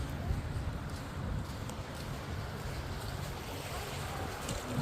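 Sea waves wash steadily near shore where small boats sit, giving a continuous rushing swell with wind buffeting the microphone.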